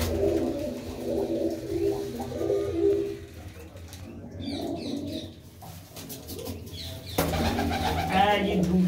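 Pigeons coo in rows of coops at Baba Bittu's loft in Dhamot village, Payal, Ludhiana, a steady low cooing chorus running throughout with a brief louder flutter near the end.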